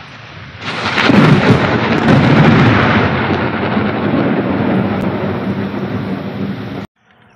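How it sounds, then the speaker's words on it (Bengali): Heavy rain roars in a dense, steady wash with a deep rumbling undertone, loud and continuous for several seconds before cutting off abruptly. "দেখো কেমন ঝমঝম করে বৃষ্টি পড়ছে"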